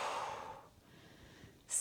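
A forceful exhale during a leaning-against-a-chair strength exercise for seniors, heard as a short loud breath burst at the start that fades, followed by quiet and a sharp hissing intake or puff near the end.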